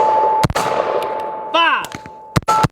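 Several sharp carbine shots crack out in separated bursts during a Mozambique drill at a shooting range, loud and close, with ringing metallic target hits between them.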